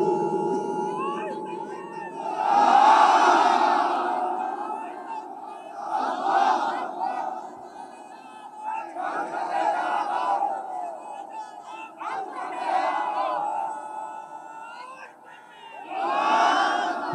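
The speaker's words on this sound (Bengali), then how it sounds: "একেবারে সাতক্ষীরার মতো তাকবীর হইছে" A large crowd at a Bangladeshi Islamic waz mahfil in Satkhira roars the takbir chant in repeated swelling waves. A leader's voice calls out between the massed shouts, which are loud and reverberant.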